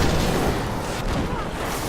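Heavy booming bursts from spell orbs detonating in the Diablo video game, a dense continuous roar of blasts filling the whole moment at steady loudness, with no clear gaps between impacts.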